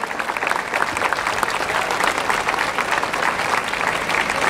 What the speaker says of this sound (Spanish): Fuerte el aplauso. Este es un aplauso de libertad.